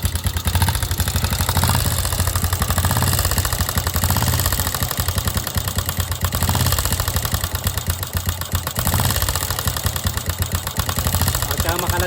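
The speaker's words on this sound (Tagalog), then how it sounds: "makalansing na yung ating motor" A SYM Bonus motorcycle engine runs steadily at idle with a constant metallic rattle, loud and close, with no pauses.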